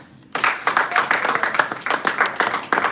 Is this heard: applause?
yes